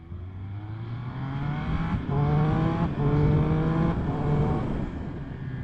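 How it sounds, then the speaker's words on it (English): A 2021 Triumph Speed Triple RS motorcycle's engine rises in pitch through several gears, with quick crisp shifts from the up-and-down quickshifter blipper breaking each climb, loud and close. "as you can tell just there, it's got a up and down blipper that really works well"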